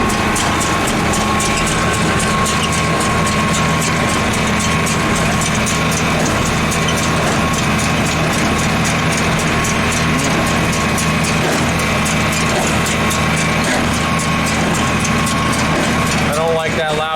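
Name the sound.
hay baler running in a field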